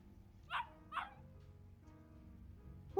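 A dog in the game Yakuza Kiwami barks twice in quick succession over a quiet background, then gives one more bark after a pause.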